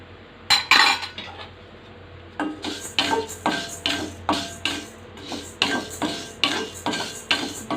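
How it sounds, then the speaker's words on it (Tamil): Urad dal being roasted and stirred in a pan with curry leaves, dried red chillies and garlic for idli podi, heard as repeated clinking and scraping of a metal spoon against the pan in a steady rhythm, close and fairly loud, with no talk. "இப்போ உளுத்தம்பருப்பு போட்டு வறுத்து எடுத்துக்கிறோம்"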